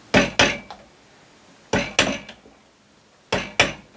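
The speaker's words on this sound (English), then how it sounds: "Next I'm going to cut out the waste material from the housing, and I do this using a chisel" A chisel cutting waste wood from a housing in a curved-front wooden box, heard as three pairs of sharp, close strikes spaced about 1.5 seconds apart, each followed by a faint tap, with quiet between them.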